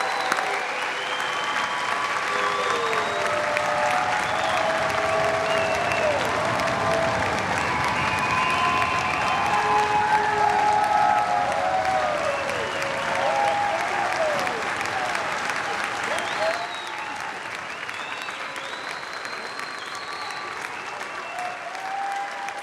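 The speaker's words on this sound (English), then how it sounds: "Let's have another round of applause for all of our graduates." A large audience applauds graduates at a commencement ceremony. Loud sustained clapping fills the space alongside scattered cheers and whoops, then eases slightly for the final stretch.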